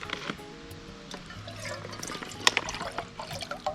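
Water splashes and trickles into a container, gurgling faintly and steadily, with a few brighter splashes near the end.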